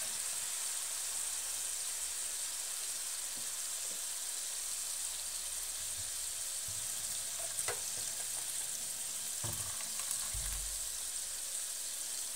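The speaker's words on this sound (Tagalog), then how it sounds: "naluluto rin naman ang kamatis habang ginigisa natin yung binigay" Tomatoes sautéing in a pan give a steady, soft sizzle with a few faint clinks of stirring, heard alone at low volume.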